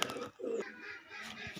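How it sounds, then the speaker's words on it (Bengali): A pair of pigeons, a mated breeding pair, coo in a short, soft low burst close by, with faint chirps and background noise around it. "এরা একই জোড়া, এক জোড়া পায়রা"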